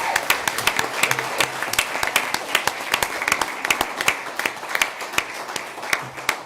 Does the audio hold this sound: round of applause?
yes